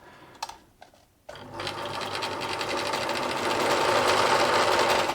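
Necchi Lydia sewing machine running a straight stitch, a few soft clicks first, then a steady, close, fast mechanical whirr that grows slightly louder and runs to the end.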